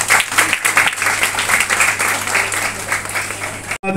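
A crowd at a foundation's annual event in Diamond Harbour claps loudly for the chairman, a close, lively patter of many hands that swells and dips before cutting off sharply with a brief louder burst at the end.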